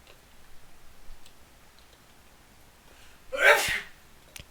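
A single sharp sneeze bursts out near the microphone against a quiet background, with faint ticking before it.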